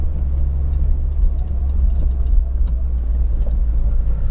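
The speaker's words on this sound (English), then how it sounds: "I like this engine more." A Peugeot 405 Mi16 engine running while driving at low speed, a loud, steady low rumble with constant road and cabin drone.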